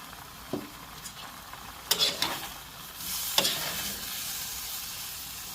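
Veggie shrimp and broccoli sizzle in a pan while being stirred, with sweet chili sauce added, giving a steady close hiss broken by a few sharp scraping clinks.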